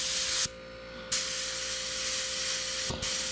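Badger Anthem 155 airbrush spraying paint gives a steady broadband hiss. The spray cuts out briefly twice, then resumes at close range, with no voices.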